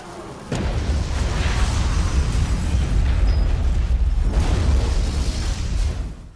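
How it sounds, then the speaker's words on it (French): A fort packed with zombies blows up in the 2012 film Abraham Lincoln vs. Zombies, a loud roaring blast that rolls on as a sustained, rumbling wall of noise for several seconds before cutting off. "après avoir attiré tous les zombies dans le fort et l'avoir fait exploser"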